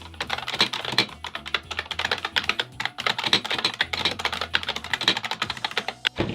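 Fast, steady typing on a heavy Bluetooth keyboard paired with a MacBook Pro, close and crisp keystrokes in a dense continuous stream with no voices.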